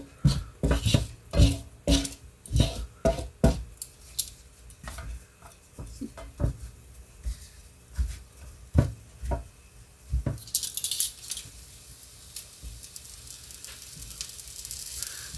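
Food sizzles in a hot pan on the stove as tortillas warm. Utensils clatter and scrape against the pan in quick bursts, and a steady hiss rises near the end.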